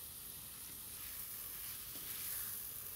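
Spinach leaves sizzle steadily in a hot pan with spice-coated pork, a dense, even hiss of frying that carries on without pause and with no talking.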